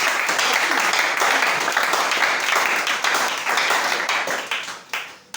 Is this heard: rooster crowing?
no